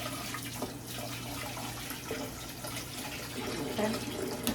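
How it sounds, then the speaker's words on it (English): A spoon is rinsed under a running kitchen tap, water streaming steadily and splashing softly in the sink for several seconds at a moderate, close distance, with no voices. "I need to rinse this one off"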